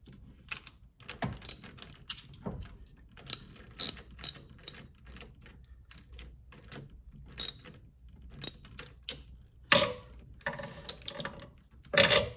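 A ratchet wrench tightens down a Skunk2 cold air intake on a 9th-gen Honda Civic Si, giving close, quick bursts of clicking pawl strokes separated by short pauses, with light metallic clinks in between and no voices.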